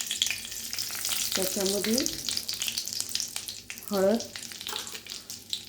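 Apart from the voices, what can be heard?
cumin and mustard seeds sizzling in hot oil tempering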